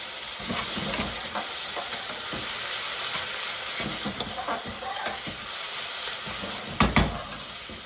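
Onion frying with tomato puree in a pan for a BIR-style lamb chilli masala, a steady moderate sizzle and hiss with intermittent stirring knocks and one sharper clatter near the end, without speech.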